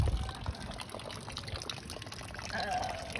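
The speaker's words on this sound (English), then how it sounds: "What's all the dripping sounds?" Steady dripping and trickling water after flood rain on a horse property, a faint continuous wash of drips and patters with no clear pauses.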